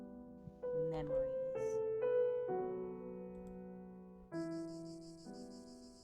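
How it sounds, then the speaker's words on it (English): Cicadas in The Last Door video game: a thin, pulsing high-pitched buzz starts in the second half, over sustained tonal game music that fills the whole stretch. "Cicada?"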